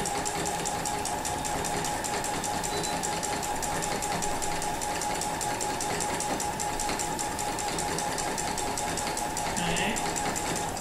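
A sewing machine runs steadily throughout for free-motion quilting with an embroidery foot fitted, the fabric guided in gentle curves; the needle's rapid even chatter hums continuously and close, without pause.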